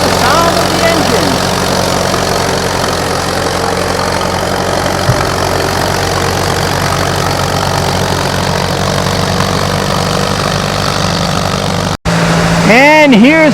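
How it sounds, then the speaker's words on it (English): An antique tractor engine runs steadily at a field plow day in northern Maine, a continuous low throbbing drone heard near and loud, with a brief cut near the end followed by a high whining sweep. "You can tell the make, the model by just the sound of the engine."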